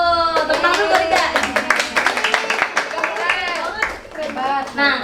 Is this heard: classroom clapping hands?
yes